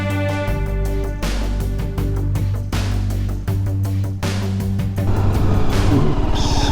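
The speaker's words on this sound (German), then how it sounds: "Vollbremsung, ich fahre von der Straße runter." Vehicle engine droning loudly in a moving car on a road in Iran, steady rumble with shifting tones as it slows hard and pulls off the roadway, close and continuous.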